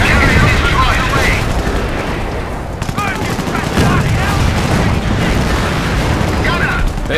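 Dense gunfire and booming explosions from a Company of Heroes battle rattle on continuously, with bursts of shots and heavy blasts layered over a constant din and radio-style voice chatter.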